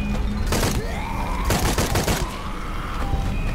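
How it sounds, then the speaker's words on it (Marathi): Rapid gunfire in a video game, several heavy blasts in quick bursts with rattling, echoing tails, loud and close. "शॉटगन"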